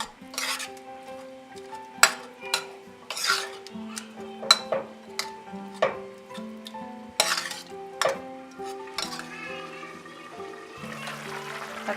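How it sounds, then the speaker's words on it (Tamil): A ladle mashes cooked lentils in a pot, making repeated metallic clinks and scrapes in an uneven rhythm, close and fairly quiet, with no talk. "இப்போ ஒரு மத்து இல்லாட்டி கரண்டியை வச்சு நல்லா மசிச்சு விட்டுக்கலாம்."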